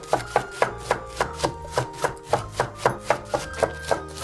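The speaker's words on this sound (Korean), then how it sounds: "청양고추와 홍고추도 쫑쫑 잘라줍니다." A knife chops Cheongyang chili and red chili peppers finely on a cutting board, about sixteen crisp, evenly spaced strikes close up. A steady low music bed runs underneath.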